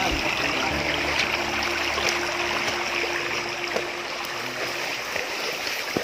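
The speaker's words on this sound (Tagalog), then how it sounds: "Itong ilog na to, itong sapa." A river stream flows steadily with broadband rushing and trickling water, continuous and fairly close, with no talk over it.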